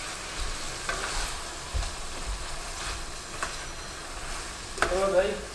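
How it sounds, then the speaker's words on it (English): Dry spices sauteing in butter and oil in a pot for tom yum hotpot broth, a soft steady sizzle with occasional stirring scrapes and clinks, close up, a brief voice near the end. "from sauteing this dry with butter and oil"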